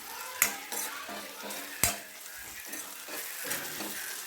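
Ivy gourd curry stir-fried in a pan: a continuous sizzle with scraping stirs and two sharp clanks of the spatula against the metal.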